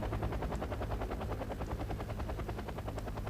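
A scout helicopter in the video game Wargame: Airland Battle flies with a loud, continuous rotor chop, its rapid thumping pulses steady and close throughout.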